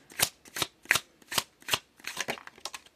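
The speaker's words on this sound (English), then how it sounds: "I guess it would help if I asked before I started shuffling." Tarot cards are shuffled by hand in quick rhythmic riffles, about eight crisp bursts in three seconds, close up and alone.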